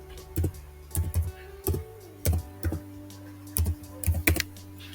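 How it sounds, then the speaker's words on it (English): Typing on a computer keyboard while entering a browser extension search, heard as irregular bursts of close, crisp key clicks in small clusters with short pauses between them, no talking. "In the search bar here, type in block sites."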